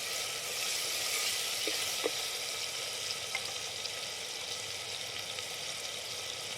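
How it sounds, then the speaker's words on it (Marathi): Seeds crackle in hot oil for a dal tempering, with a steady fine sizzle and a few sharp pops, close but fairly quiet, with no talking. "ही बी जरा टाकून घेतली फोडणीला."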